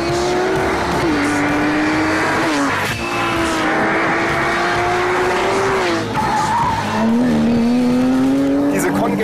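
A 435-horsepower Porsche 911 GT3 with a manual gearbox drifts in second gear, its engine howling under load with rising and falling revs while the tires squeal and skid throughout. Someone talks over the car.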